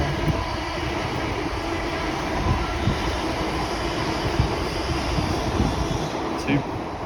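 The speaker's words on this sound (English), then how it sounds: "passing through now is a Great Western IET going from, I believe, Plymouth to London Paddington" A Great Western IET train running from Plymouth to London Paddington passes through Acton Mainline on the GWML, a loud, steady rumbling roar that swells slightly and holds for several seconds while someone talks.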